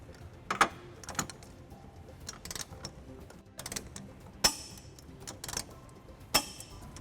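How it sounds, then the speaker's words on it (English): A ratchet socket wrench with a 19 mm socket and 5-inch extension tightens trailer hitch bolts on a 2012 Hyundai Genesis, giving short, intermittent bursts of close ratcheting clicks separated by quiet pauses, with no talking. "Now we're going to tighten and torque all of our bolts to the manufacturer specification."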